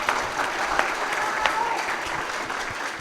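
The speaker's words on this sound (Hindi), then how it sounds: "ऐसी तालियां अनवर भाई के लिए बजा दीजिए" Audience at a mushaira poetry gathering in a function hall applauds steadily throughout, a dense, even wash of many hands clapping at moderate volume.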